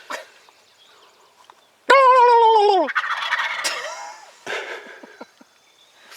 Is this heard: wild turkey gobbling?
yes